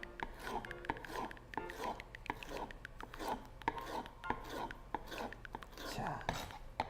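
Knife chopping a yellow vegetable on a cutting board while a salmon steak dish is assembled, a run of quick, close rhythmic cuts of moderate loudness with faint voices under them.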